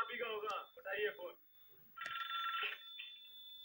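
A telephone rings in the Hindi film Khiladiyon Ka Khiladi played from a VHS cassette, a bright trilling ring heard alongside and between people talking, with slightly hissy tape sound.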